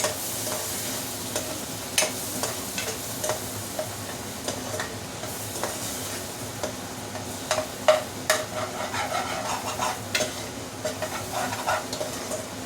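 Goat head and trotters curry frying dry in a pan, a continuous low sizzle broken by irregular scraping and clinking stirs of a spoon, close and fairly quiet.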